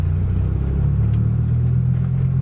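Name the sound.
Dodge Viper engine nearly stalling, starting in third gear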